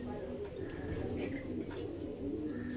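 Pigeons coo softly up close as a man holds them and speaks over the sound, the low burbling calls running under his voice throughout.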